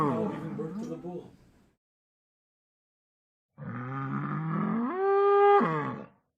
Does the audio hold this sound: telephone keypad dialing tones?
no